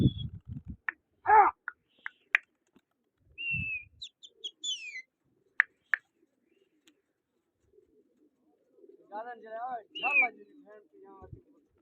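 Racing pigeons coo in low, soft bursts, mixed with chirps, wing-like flutters and scattered clicks, with quiet gaps between calls.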